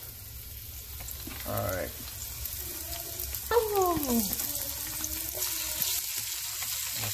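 Shrimp frying in a hot pan with ginger and garlic gives a steady, close sizzle with stirring clatter, and a voice speaks briefly over it.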